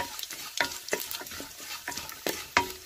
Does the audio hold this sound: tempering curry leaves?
yes